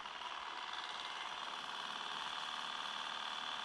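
An RC crawler's brushed motor, run by an ISDT ESC70 brushed speed controller, creeps along without throttle input and gives off a faint, steady electric whine that holds constant throughout.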